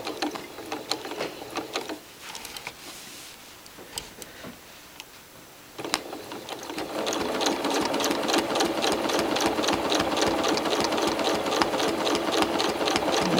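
A sewing machine doing free-motion quilting runs in short bursts at first, then settles into a fast, continuous needle clatter that stays close and loud to the end.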